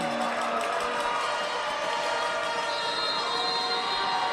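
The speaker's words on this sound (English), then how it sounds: "The crowd going absolutely nuts here" A crowd at a men's volleyball match in a gym cheers loudly and continuously in a dense roar, with whistles and shrill tones rising above it. No clear speech comes through.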